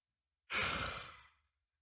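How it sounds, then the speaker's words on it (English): An uncontrollable yawn: one breathy, close exhale that swells quickly and fades over about a second, with no talking. "I literally just yawned out of nowhere uncontrollably"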